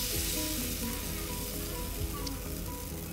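Thin millet dosa batter sizzling and frying on a hot pan, a steady close crackle that holds throughout.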